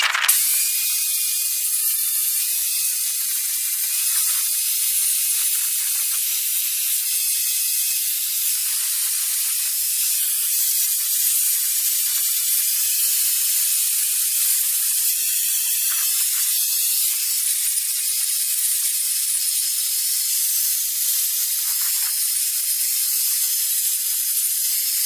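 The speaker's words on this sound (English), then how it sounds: "with the grinding wheel, I'll just go over the frame and remove any burrs that will be there from the cutting process" A grinding wheel deburring the freshly cut metal frame of a 50-year-old five-piece outdoor setting gives a continuous loud, high hissing grind, steady for about twenty-five seconds with slight wavering in intensity.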